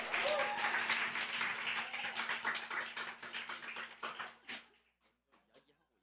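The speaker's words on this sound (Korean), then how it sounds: "이 시간 나오실 때 큰 박수 부탁드립니다." A church congregation claps loudly for someone coming forward during a Sunday afternoon service. The clapping is dense and sustained, then thins to a few scattered claps before fading to near silence.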